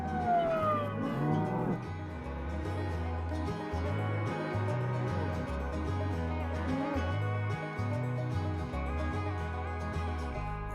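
A siren sounds from a vehicle out on a cattle ranch, rising and falling in repeated wailing cycles at close range, loud and continuous alongside a steady low rumble.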